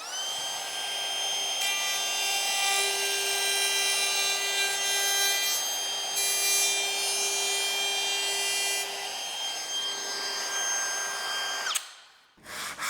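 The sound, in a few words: router with rabbeting bit cutting end of board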